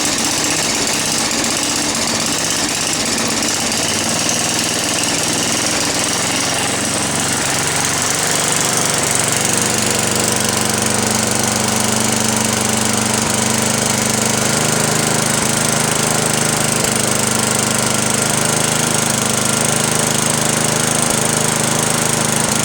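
A John Deere 828D walk-behind self-propelled snow blower engine starts and runs at full throttle, a loud steady mechanical roar with a rough low drone that holds throughout.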